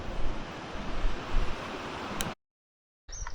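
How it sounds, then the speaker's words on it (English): Water rushing at a dam in the Elan Valley: a loud, continuous, close roar of falling water that cuts out abruptly for a moment before returning. "The sound of the water, isn't it?"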